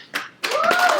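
An audience claps briefly, a short burst of applause after a single early clap, fairly close and loud.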